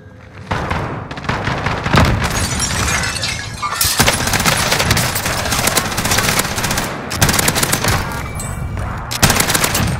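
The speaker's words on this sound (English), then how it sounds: "Flashbang going out" A flashbang grenade goes off amid dense game combat on Rebirth Island in Call of Duty Warzone, with loud, sustained bursts of gunfire, sharp cracks and breaking noises filling the whole stretch with almost no pause.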